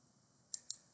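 A computer mouse clicked twice in quick succession while creating a new library in Salesforce, two sharp, close, distinct clicks in an otherwise quiet room.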